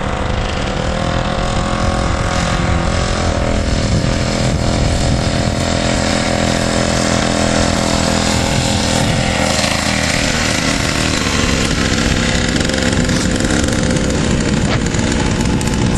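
A SYX Moto 50cc dirt bike's small engine runs steadily at close range, a loud buzzing drone with slight throttle variations and no pauses for the whole stretch.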